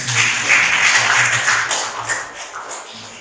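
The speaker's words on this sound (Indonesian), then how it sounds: "Boleh sekali lagi kita berikan tepuk tangan" Applause from an audience at a school best-practice dissemination session, a dense patter of claps holding steady for about three seconds before thinning slightly, fairly close and without talk over it.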